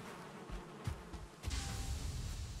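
Bees buzzing around a beehive in the video game Valheim, a steady low insect drone that swells louder midway, with no talk over it.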